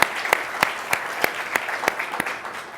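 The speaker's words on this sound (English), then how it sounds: "that's worth clapping about" Evenly spaced, crisp hand claps in a steady rhythm from an audience at a political event about women in Washington, close and distinct over a faint room background.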